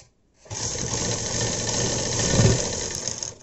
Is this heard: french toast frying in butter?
no